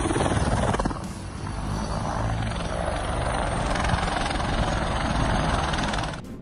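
An aircraft landing roars as a loud, steady broadband engine rush, briefly dipping early, then holding before cutting off near the end.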